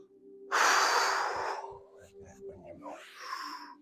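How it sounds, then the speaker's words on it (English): Big deep breaths during a core workout, a loud close airy exhale burst followed by softer, uneven breathing sounds with light voice traces underneath. "So those big deep breaths."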